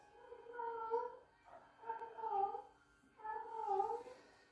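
Pet dog whining indoors in a home, three drawn-out tonal whimpers with short gaps between them, fairly close but quiet.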